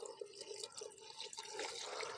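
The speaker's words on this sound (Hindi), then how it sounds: "और अब इसमें पानी शामिल करते हैं।" Water poured into a cooking pot of beef paya (trotters), a steady splashing, trickling pour up close that grows fuller toward the end, with no talk over it.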